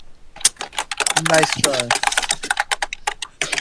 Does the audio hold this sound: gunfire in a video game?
no